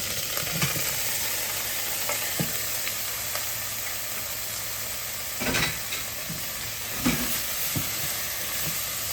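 Cauliflower hits a hot pan and gives a constant, moderately loud sizzling hiss. Occasional short knocks and scrapes of stirring come through it.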